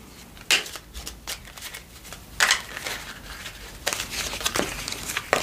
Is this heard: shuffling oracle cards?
yes